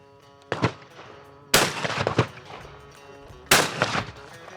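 Three loud, sharp .45 pistol shots at a shooting range, spaced about a second or two apart, each followed by a brief echoing tail, close by with no talking.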